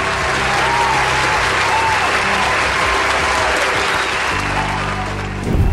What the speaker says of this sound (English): hold the applause for now